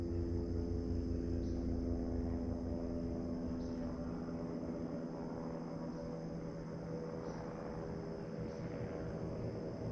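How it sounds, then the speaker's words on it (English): A helicopter flies overhead above woodland, producing a steady, droning rotor hum that stays constant and fairly loud throughout without talk. "We got a helicopter overhead."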